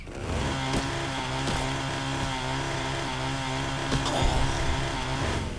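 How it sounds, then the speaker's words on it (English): A revving chainsaw in the video game Fallout: New California buzzes steadily and loudly with a harmonic engine whine, interrupted by several sharp percussive hits, with no speech. "Oh, there's my chainsaw."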